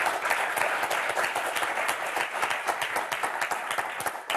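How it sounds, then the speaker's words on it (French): Steady, dense applause from the studio audience of the French TV game show Motus, many hands clapping together at a constant level throughout. "Je voudrais qu'on applaudisse très fort Daniel et Marie-Christine."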